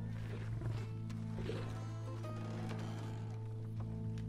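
Lion growling in Red Dead Redemption 2, a low continuous rumbling growl that persists throughout with some intermittent background clatter and rustling.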